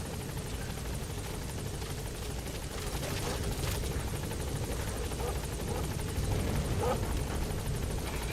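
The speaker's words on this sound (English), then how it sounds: "Support helicopter" The support helicopter in the video game Metal Gear Solid V drones as a steady, dense rotor wash with no breaks, loud and constant the whole way through.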